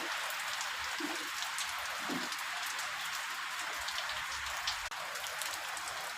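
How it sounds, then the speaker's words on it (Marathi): Heavy early-morning downpour in Pune, a dense steady hiss of rain drumming on surfaces with scattered louder drips, continuous and loud throughout with no voices. "रातपासून मुसळधार पाऊस आहे, पहाटे 4 वाजल्यापासून"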